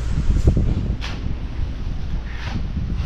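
Wind gusts blow outdoors as the air suddenly cools before heavy rain, a continuous rough rushing with buffeting against the microphone and a few stronger surges, loud and close, with no voices.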